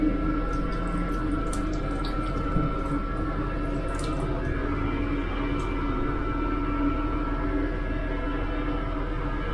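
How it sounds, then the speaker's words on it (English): Water runs steadily from a sensor-operated tap into a small toilet sink aboard a Northern passenger train, making a soft, continuous trickle beneath the low hum of the moving carriage. "a laser guided tap below"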